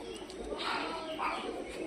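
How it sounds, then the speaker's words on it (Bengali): Sick pet pigeons coo softly in a brief, low murmur, with faint background noise around them. "আমাদের অসুস্থ পায়রাগুলো কী করছে দেখে"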